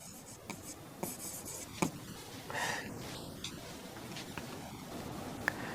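A pen scratches across paper as a reason is written out by hand in a magnetism lesson, with soft continuous strokes and occasional light taps, close and quiet.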